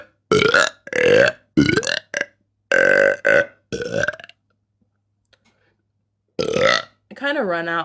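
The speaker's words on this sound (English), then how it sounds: "We should see how many burps I can do in a minute on here." Loud, close burps come one after another, several throaty belches in quick succession. A brief silence follows, then a final long, drawn-out burp that wavers in pitch.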